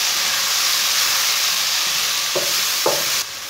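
Finely chopped tomato fries in a hot pan with green chillies, giving a steady, loud sizzle and hiss with a couple of brief stirring scrapes near the end.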